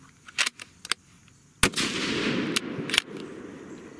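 A Sig Cross rifle firing .308 Winchester handloads at an outdoor range: several sharp cracks, then one loud shot with a long rolling echo and two more reports.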